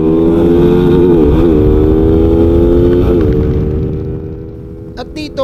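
Suzuki Raider FI motorcycle racing against a Rusi Flame X 150 in Guimaras, a loud close engine roar with rising revs and gear shifts that fades toward the end.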